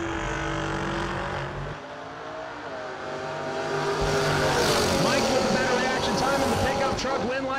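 Chevy II drag race car at the New Year Nationals strip, engine roar climbing and building toward the end while an announcer talks over it.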